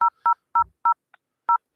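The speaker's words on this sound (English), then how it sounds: "She's pretending to dial a phone number right now" Touch-tone keypad beeps from a phone as a scam caller dials a number: five crisp, loud two-pitch tones in an uneven rhythm, with a faint click between the fourth and fifth. No one speaks.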